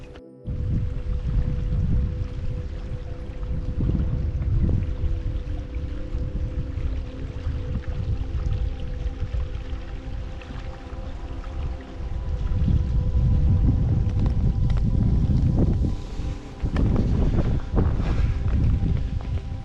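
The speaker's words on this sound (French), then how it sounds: "Je vous ai laissé écouter un peu le clapotis des vagues." Small waves lap steadily at the shore of Lac du Carla Bayle, a continuous low washing sound outdoors with heavy wind buffeting the microphone and no talking.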